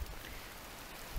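Rain falls on a campsite, a soft, even hiss of drops with no other sounds.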